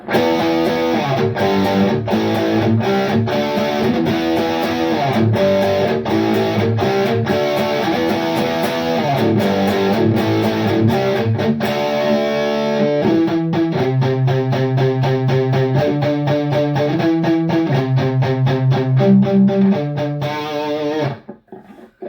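Electric guitar through a Fortin Sigil 20-watt amp head with light, mildly crunchy gain, strummed chords then a faster rhythmic picked passage, loud and close, ending abruptly.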